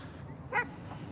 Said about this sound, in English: did you hear the bark?